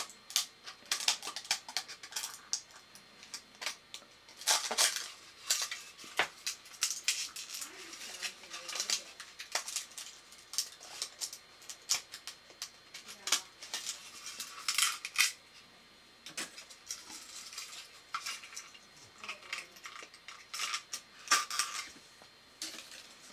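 A hobby knife blade scrapes and cuts into a plastic 3D print from a Bambu Lab A1 Mini, giving a series of short, sharp close-up snips and scratches at an irregular rhythm with no talk.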